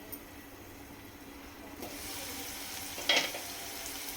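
Leafy greens being added to onions in a hot pan, giving a steady soft sizzle with a brief louder stir or clatter near the end, close and without talk.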